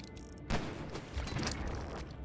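Gunfire in the fantasy tactical RPG Grimshade, a short burst of close shots starting sharply and trailing into a rumbling, crackling tail, with no talking.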